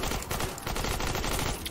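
A primitive submachine gun in Fortnite Save the World fires a rapid, continuous burst of shots, loud and close, with no pauses across the short stretch.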